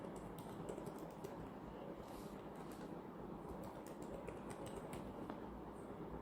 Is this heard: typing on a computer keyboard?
yes